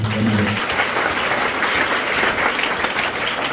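A church congregation claps in steady, dense applause at a Sunday worship service, loud and close, filling the space after a short hum at the start.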